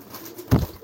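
A male racing pigeon courting after its eggs were removed gives a single short, deep coo, close by over quiet background hiss.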